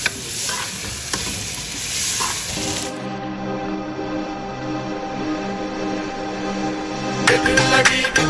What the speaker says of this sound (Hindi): क्या बन रहा है अम्मा? चिकन कढ़ाई बन रही है।